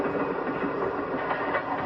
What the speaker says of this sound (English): And sometimes the train goes through the mountain itself